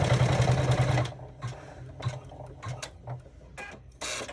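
A sewing machine runs a basting stitch around the perimeter of a bag with a zipper and card-slot pocket: one steady, loud run of stitching at first, then short bursts with pauses and small handling noises.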